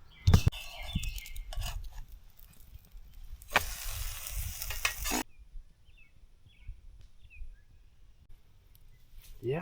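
A quesadilla fries in butter over an open fire on a grill grate outdoors, crackling and sizzling in bursts with a loud hissing stretch partway through, then quieter background with faint birdsong.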